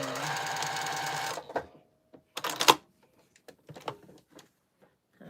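A sewing machine stitches a quilt seam in a steady rapid run for over a second, then stops, followed by scattered handling clicks and brief machine bursts.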